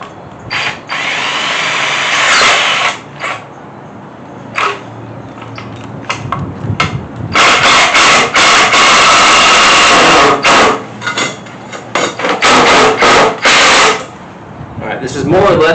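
A power drill drives screws into scrap wood while a hose reel is built, with several loud close whirring bursts of varying length separated by pauses, and a person talks briefly between them.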